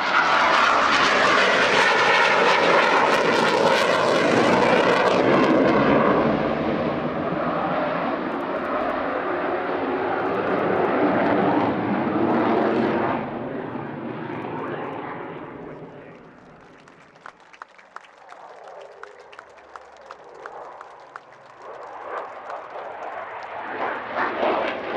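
A Spitfire and a Eurofighter Typhoon flying as a synchro pair at a 2022 military airshow pass overhead with a loud, powerful roar that builds, peaks, then fades into the distance, followed by faint crowd and background noise.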